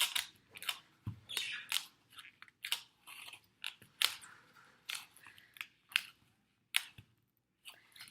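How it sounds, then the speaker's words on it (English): Dried plaster slab with a drawing on it being snapped and broken apart by hand, giving a series of short, dry cracks and crunches scattered irregularly at close range, with quiet gaps between them. "You're breaking it apart to cause cracks."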